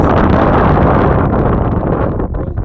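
Heavy wind buffeting a microphone, a loud continuous low roar and rumble that holds steady and then eases slightly near the end, with no talk over it.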